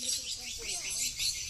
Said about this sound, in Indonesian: burung walet udah mulai datang karena sudah di-on-kan. Sudah di-on-kan untuk suara tarik.